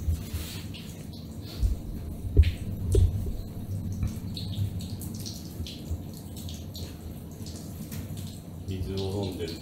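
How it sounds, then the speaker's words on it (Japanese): Cat lapping at a pet water fountain running with its filter switched off, giving a steady trickle of running water with soft irregular splashes, close by, while a person talks over it. "最近はフィルター切ってるから普通に水の音が聞こえるだけ。"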